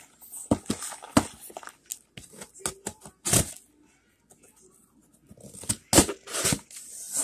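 Scissors snip and cut into the packaging of a snack crate being opened, with a run of short crisp cuts and tearing bursts, then a pause and more close cutting.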